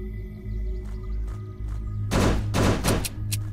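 Gunfire in the zombie survival game Last Hope Bunker: a quick cluster of loud, close shots over a steady low hum, followed by one more shot, with no talking.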